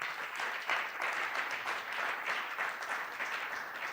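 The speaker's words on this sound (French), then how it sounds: "Acclamons très fort pour la gloire de Jésus" A church congregation at a Sunday praise and thanksgiving service applauds and cheers loudly, a dense, steady wash of clapping and voices that fills the whole space without pause.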